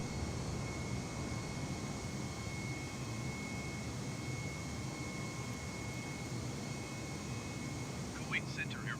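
Airbus A320neo jet engines climbing in Microsoft Flight Simulator, a steady broadband cockpit roar with a faint high whine that holds even for the whole stretch, with a brief chirp near the end.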